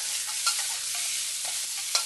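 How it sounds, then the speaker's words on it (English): Pork ribs stirred and fried in a wok: a continuous close sizzle broken by a few sharp spatula scrapes and clinks against the pan, with no voices. "Stir well."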